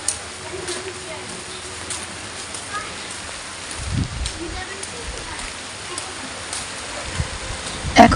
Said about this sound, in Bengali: বৃষ্টি পড়া কিন্তু অলরেডি শুরু হয়ে গেছে